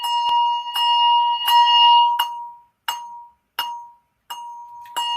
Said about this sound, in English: alternate between regular ringing and thumb damping